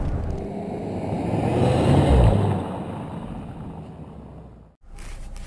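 A 1991 Mercedes 190E 2.3 8V in Sport mode pulls hard from a standstill in a 0 to 100 km/h run, engine roar building loud and close for about two seconds, then easing into steady rushing noise with a brief dropout.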